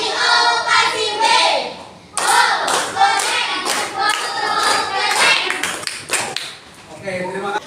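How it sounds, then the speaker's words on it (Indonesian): Children clapping a rhythmic 'tepuk wow' cheer in an elementary school classroom, a run of quick sharp claps in bursts with short pauses, mixed with voices calling along throughout. "Kita kasih tepuk wow"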